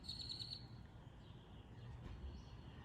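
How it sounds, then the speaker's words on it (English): A faint bird trills a short series of high chirps at the start, then quieter distant calls drift over a low background hum. "I know y'all can hear the birds singing in the background."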